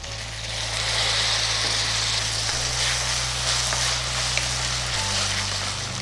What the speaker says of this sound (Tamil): அடுத்து நான் இதில் உருளைக்கிழங்கு சேர்க்க போகிறேன்